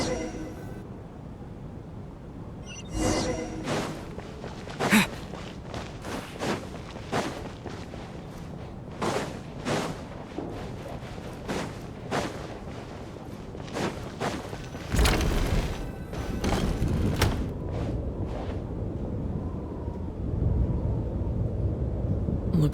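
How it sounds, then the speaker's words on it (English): Howling snowstorm wind with deep rumbles and booms of thunder in the Genshin Impact game, Snezhnaya region, a continuous roaring bed broken by repeated heavy bursts throughout. "if only this blasted storm wasn't still raging"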